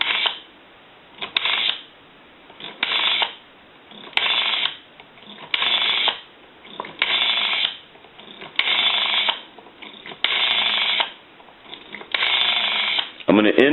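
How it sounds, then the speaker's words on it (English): A Kellogg Redbar rotary desk telephone being dialed through a line, giving a regular series of about nine evenly spaced, band-limited bursts of sound, each lasting close to a second, steady and moderately loud with no voices. "Now we want to dial through our numbers"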